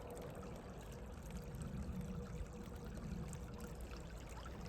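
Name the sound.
flood water flowing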